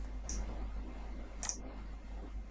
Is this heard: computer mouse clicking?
yes